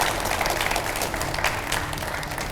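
A studio audience at a televised debate claps warmly for the panel guests, a thick, continuous wash of applause from many people with a few sharper claps standing out.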